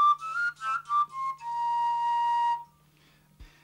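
A homemade shepherd's whistle, made from a stick with a hole drilled crosswise, plays several short piping notes and then holds one long steady tone, close and clear.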